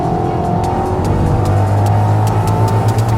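A BMW XM engine and exhaust drone loudly and steadily through downshifts, with a deep, continuous tone and regular faint pops, heard from inside the moving car without talk.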